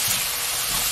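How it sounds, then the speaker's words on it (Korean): Broccoli, onion and carrot stir-fry over high heat in a pan, a brief loud steady hiss of steam and sizzling with no speech. "또 센 불로 이렇게 바싹 볶아놔도요."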